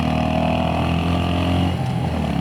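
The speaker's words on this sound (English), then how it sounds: "the thump of this exhaust is really something else." Royal Enfield Hunter 350 motorcycle with an aftermarket exhaust fitted with a dB killer, riding in the mountains; a steady, loud, deep engine thump with rhythmic low pulses throughout, no talking.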